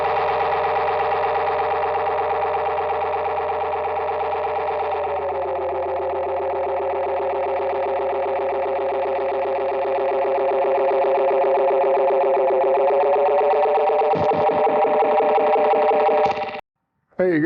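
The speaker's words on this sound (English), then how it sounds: "So that's the old school Roland Space Echo." An old Roland Space Echo tape echo effect churns through a sustained, distorted swirling tone with repeating echoes, steady and loud for most of the run before cutting off abruptly near the end.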